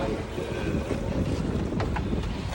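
Rough ocean waves wash and slap around a small boat at sea, with a continuous loud churn of water mixed with strong wind buffeting the microphone.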